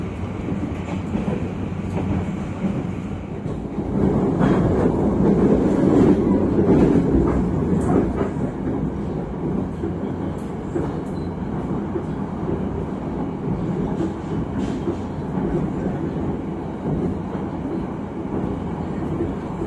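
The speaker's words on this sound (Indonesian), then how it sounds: "Mantap lah untuk ekonomi kereta api Jayabaya ini." Jayabaya economy-class passenger train running on the Surabaya–Malang line, a steady loud rumble and rattle from inside the carriage throughout, swelling briefly near the start, with no talk over it.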